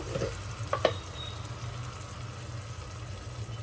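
Ginger-garlic paste masala for Maharashtrian mutton rasa frying in a pan, a soft low sizzle with a couple of brief utensil scrapes near the start, quiet and without talk.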